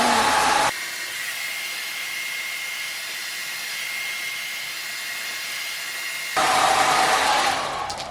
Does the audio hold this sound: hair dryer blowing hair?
yes